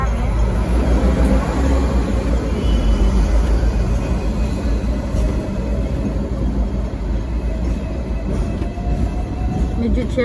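A ride on the upper deck of a double-decker tram: a steady, loud rumble of wheels and motor with faint rail clatter running throughout, with voices mixed into the noise.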